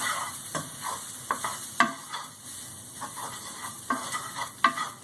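Thin-sliced beef for a classic Philly cheesesteak sizzles steadily in a pan while a utensil scrapes and stirs it in quick, irregular strokes, heard up close without talk.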